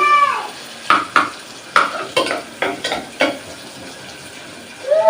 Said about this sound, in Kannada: ಈ ಕಡೆ ಒಗ್ಗರಣೆ ಹಾಕೋದಾಗೈತಿ